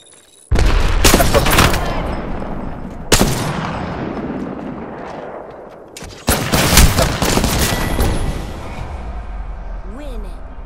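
Apex Legends gunfire and a frag grenade explosion. Three sharp, loud bursts of shots and booms each trail off into rattling fire, and a voice speaks in between.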